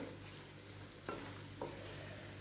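Squid stirred and fried in a pan with pepper makes a quiet, steady sizzle, broken by two soft scraping strokes of the spoon.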